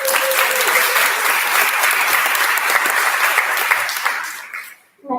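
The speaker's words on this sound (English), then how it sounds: "Let's have a big round of applause for the sponsors" An audience at a benefit auction gives a loud, dense round of applause that holds steady for several seconds, then fades out quickly.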